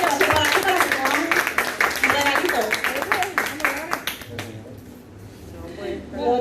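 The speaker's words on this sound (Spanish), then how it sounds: "Un aplauso para nuestra hermana María González" A church congregation applauds a fellow member during a Bible study gathering, with dense sustained clapping from many hands that thins and fades out toward the end, with voices in the background.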